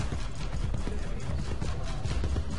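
Horse hooves galloping in Assassin's Creed Brotherhood, a rapid continuous clatter of hoofbeats over a dense, loud game soundscape.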